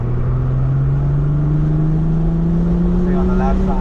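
A BMW accelerating on a race track, its engine droning loud and steady with pitch slowly rising throughout, while voices talk over it.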